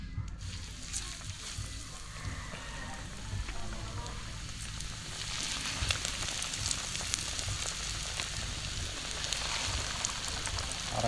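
Egg-coated malaguno fish frying in hot oil, a steady broadband sizzle with crackle that builds slightly over time, a voice talking faintly underneath.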